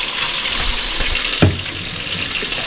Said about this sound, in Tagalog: Ayan, lagyan natin ng suka. Puhos na natin ito lahat para maraming sabaw siya.